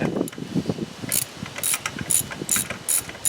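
A ratchet wrench and socket turn a spark plug back into the engine of a 1995 Nissan, giving a close run of quick metallic clicks in short bursts, with no talking.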